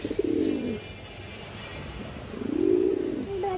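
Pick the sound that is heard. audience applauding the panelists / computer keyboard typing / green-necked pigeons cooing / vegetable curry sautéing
green-necked pigeons cooing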